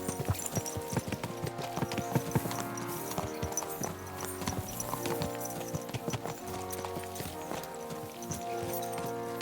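Horses galloping in Kingdom Come: Deliverance II, with dense rhythmic hoofbeats under a busy layer of game music, loud and continuous throughout.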